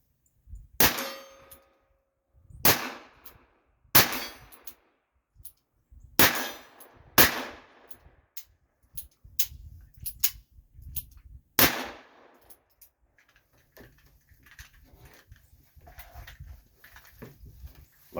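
Sharp gunshots from a Peacemaker revolver ring out one at a time, about eight spaced reports with clanging echoes over a low background rumble, loud and close.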